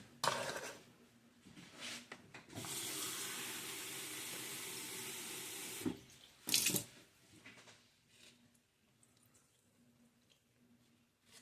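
Tap water runs into a measuring cup for a hardtack dough, a steady close hiss lasting a few seconds, then clinks, a short burst and soft handling noises in a quiet kitchen.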